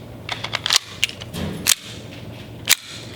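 An airsoft gun running on green gas fires several sharp, snappy shots, spaced irregularly over a few seconds, loud and close, with faint clicks and hiss between them.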